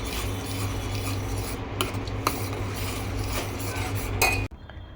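Spoon stirring mixed vegetable soup in a metal pot, with repeated scraping and clinking over a steady boiling hum, and a sharp clink just before it stops.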